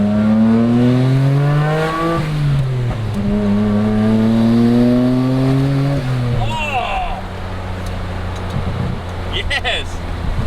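A Nissan Laurel engine revs up and down in rising and falling sweeps, loud and close, while the car pulls away and drives, with people talking over it.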